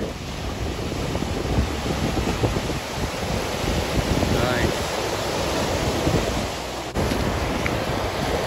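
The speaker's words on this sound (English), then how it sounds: "Look at these waves." Ocean waves on a California beach make a continuous broadband rush of surf, heavy with wind buffeting the microphone, loud and steady throughout with no distinct individual breaks.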